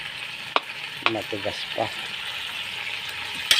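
Pinakbet vegetables, squash and eggplant, sizzle and fry in a pan over a smoky Mangyan cooking fire in Mindoro, a steady crackle with a few louder stir clatters near the start, while a voice speaks briefly.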